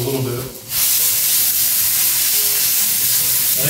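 Soy chorizo frying in a cast iron skillet gives a loud, steady, close sizzle that swells to full strength after a brief quieter moment and then holds evenly.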